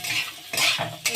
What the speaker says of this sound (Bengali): নুন দিয়ে একটু গাজরটাকে ভেজে নেব